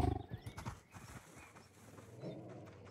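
A tiger growling in the hunting game theHunter Call of the Wild on a Nepal hunt, a low rumbling growl strongest at the start, then a quieter, rougher rasp trailing off, with no voices over it.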